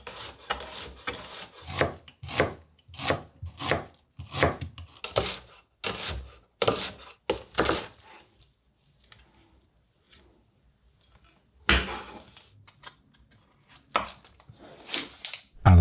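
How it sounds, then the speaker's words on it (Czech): A knife slices an onion into rings on a cutting board, producing a quick run of crisp, close chops in a steady rhythm, then a pause before a few scattered later cuts. "a během restování si připravím cibuli, kterou nakrájím na plátky."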